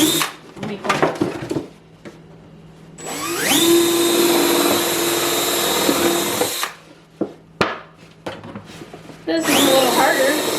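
A power drill bores a hole through a milkweed planter in two loud, steady bursts of a few seconds each, with a short whine at the start and handling clatter and brief talk in the gaps between them.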